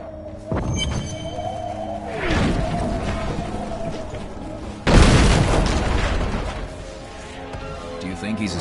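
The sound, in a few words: war machine bombardment explosions in the video game Diablo 3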